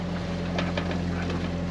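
A boat engine running steadily at 1100 rpm while the boat moves at just over five knots through waves, a constant low drone with broadband wind and water rush over it.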